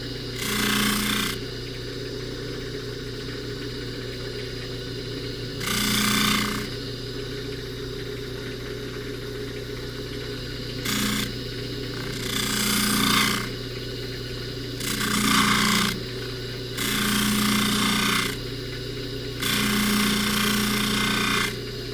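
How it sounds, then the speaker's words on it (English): Necklace being polished during jewelry repair with a rotary tool on a low setting, giving repeated bursts of abrasive rubbing about a second or two long over a steady motor hum, close and moderately loud. "What I'm doing is I'm just kind of polishing the surrounding length first."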